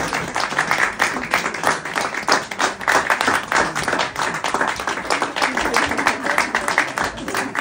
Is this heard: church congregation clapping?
yes